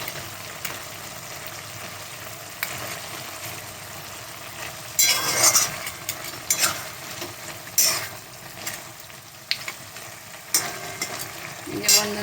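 A thick curry of fish heads, pumpkin, potato and greens simmers and fries in a pan, a low steady sizzle broken by several louder bursts of stirring and scraping near the middle and end.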